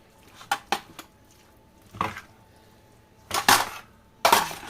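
A spoon stirs a tartiflette mixture with minced meat into potatoes in a dish, giving close, loud scraping and clinking strokes in short irregular bursts with pauses between them.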